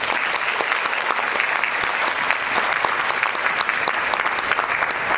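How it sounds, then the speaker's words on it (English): Audience at a Bharatanatyam arangetram ceremony applauds a certificate recipient with steady, dense clapping that fills the hall for several seconds. "Let's give her a round of applause."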